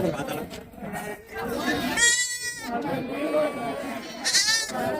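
Young milk-fed goat kids bleat repeatedly at a busy goat market, two wavering cries rising clearly over a steady murmur of nearby voices and crowd chatter.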